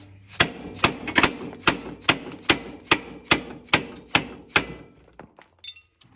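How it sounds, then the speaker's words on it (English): A rubber mallet strikes the front hub of a Polaris Ranger 800 XP in a steady run of about a dozen loud, close, evenly spaced thuds with metallic ring. The blows then stop and a few faint clinks follow. "Now we're just gonna take a dead blow or a rubber mallet."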